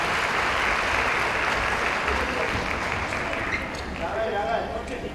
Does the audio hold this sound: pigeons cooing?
no